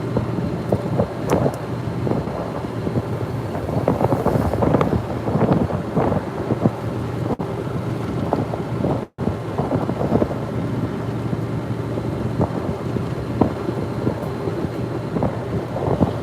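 Steady, loud wind roar buffets the microphone of a golf cart moving at about 23 miles an hour through The Villages in Florida, a continuous low rumble with gusty swells lasting throughout and no voices.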